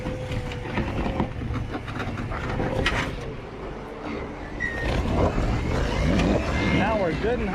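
A Jeep Grand Cherokee high-centered on an off-road trail, its wheels spinning with a steady engine drone and grinding rumble, a brief rising whine near the end, while people talk and shout over it.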